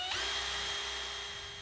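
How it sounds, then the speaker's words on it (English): Power drill boring holes through the front of a wooden float frame, a sharp spin-up into a steady high whine held close and loud without talk. "I'm drilling evenly spaced holes through the front of the frame"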